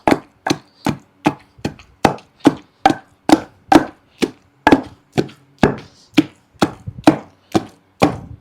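Brinjal pounded in a stone mortar (rolu) for a chutney, giving about eighteen sharp, evenly spaced thuds at a steady rhythm, each close, loud and dry, with no voices.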